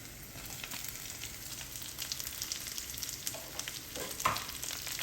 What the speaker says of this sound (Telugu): ఇవి కూడా ఒక 2 నిమిషాలు వేయించుకోవాలి.